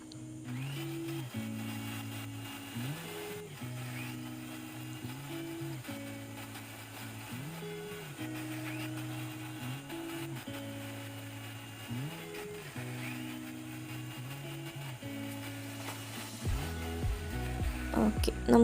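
A blender whirs steadily, beating mayonnaise made with sunflower oil. Its motor hum runs continuously with a cyclic rise and fall in pitch, and it grows louder and rougher near the end.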